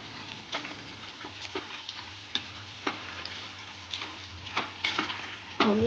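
A spoon scraping and tapping through boiled spinach with Kashmiri chilli in a pan, irregular clicks and knocks over a soft sizzle, close and fairly quiet.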